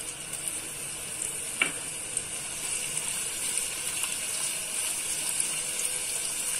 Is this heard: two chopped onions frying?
yes